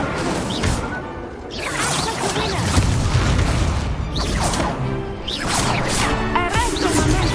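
Incendio fire spell cast in the video game Hogwarts Legacy, whooshing fiery bursts with crashes and thwacks over several seconds of loud combat effects, with brief voices mixed in.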